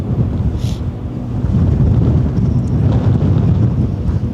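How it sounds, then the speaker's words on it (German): Strong wind buffets the microphone on an open cruise ship deck, a loud, continuous low roar that gusts stronger after the first second and a half, with no speech over it. "Boah, der Wind ist heute sportlich."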